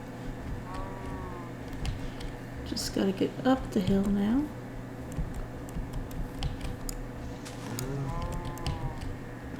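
Cows moo in a few drawn-out low calls, one louder and closer in the middle and fainter ones before and after, over steady background noise with a person talking.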